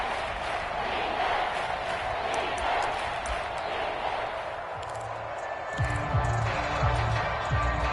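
Steady roaring stadium crowd noise fills a football video game as the Kansas City home crowd plays against Dallas near the goal line, a dense continuous wash with rhythmic thumping joining toward the end and a commentator's voice underneath.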